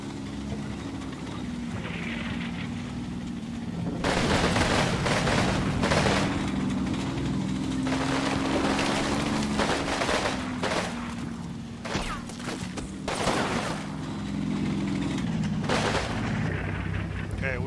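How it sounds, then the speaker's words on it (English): Sustained gunfire and heavy explosive bursts in the Combat Mission: Fire and Rubble war game, set in Pomerania, 1945, as troops lay down suppressing fire; loud, dense volleys and repeated booming blasts over a continuous low rumble. "let's get some more fire on them to suppress them."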